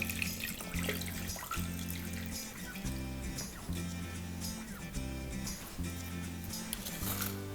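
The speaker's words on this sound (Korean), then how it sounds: "물은 1리터 넣어주도록 할게요" About a litre of water pours into a cooking container holding pork back ribs and aromatics, a soft steady splashing stream heard faintly under steady background music.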